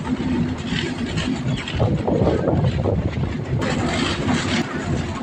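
A broad-gauge train running past Chuadanga railway station, heard from on board as a loud continuous rumble and rattle with wind buffeting, steady throughout with a brief shift near the end.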